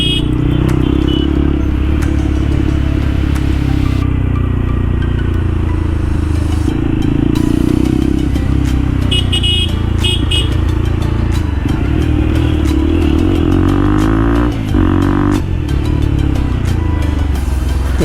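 A motorcycle with its dB killer removed roars loudly and steadily on a weekend ride, the unmuffled exhaust rising and falling with throttle and crackling close by throughout.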